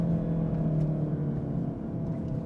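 A Volkswagen Golf R's engine hums as a steady, low, fairly faint drone, mixing intake and exhaust noise while the car cruises on the road.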